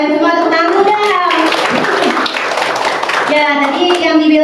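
A classroom of children claps hands together in a brief, dense burst of applause, with a teacher speaking just before and after.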